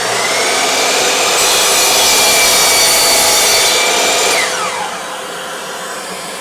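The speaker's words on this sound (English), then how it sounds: "Forgot to turn on the dust extractor." Dust extractor hooked to a 10-inch mitre saw roars loudly and steadily alongside the cut, its broad whooshing hiss dropping to a lower level near the end once the blade stops.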